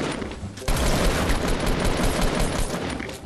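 A sudden sustained volley of automatic gunfire in the video game Fortnite, starting abruptly and continuing loudly for a few seconds, with no one speaking over it.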